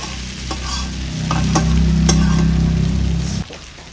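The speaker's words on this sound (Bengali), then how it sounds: "আমি অল্প জল দিয়ে আরও কিছুক্ষণ কষিয়ে নিচ্ছি সব কিছু" Chana masala stirred and fried in a wok, a steady close sizzle with scraping spoon strokes and a few sharp clacks against the pan, running alone for about three and a half seconds before cutting off.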